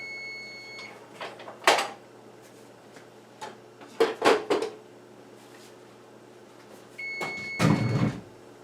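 A kitchen oven door is opened and closed while checking a baking cake, with a few clunks, rattles and scrapes at close range and a steady electronic hum and brief beeps in between.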